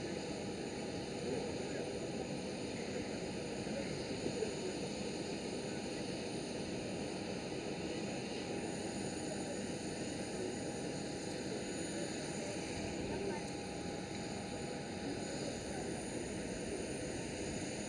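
A Transavia airliner arrives and lands on a runway at Amsterdam Schiphol, heard as a steady, faint, distant engine roar that holds evenly throughout.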